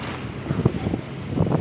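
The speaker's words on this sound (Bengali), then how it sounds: "দেখো কি হাওয়া দিচ্ছে" Strong gusts of wind buffet the microphone outdoors during pre-rain weather where washed laundry hangs drying, a steady rushing roar with louder surges, no speech.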